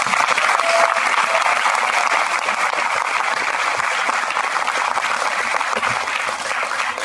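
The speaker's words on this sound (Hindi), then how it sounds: "मैं चाहूंगा अपने लिए एक बार जोरदार तालियां बजाएं" A hall audience at a wellness mega show bursts into loud, sustained applause, a dense wash of many hands clapping together that holds steady throughout without voices over it.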